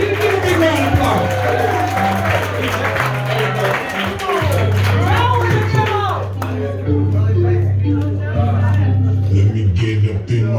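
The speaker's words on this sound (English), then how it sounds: "I want y'all to give Joseph Thompson a big round of applause" Crowd at a Morganton comedy night claps, cheers and whoops as a comedian is welcomed on stage, a lively mix of applause and shouts with people talking throughout.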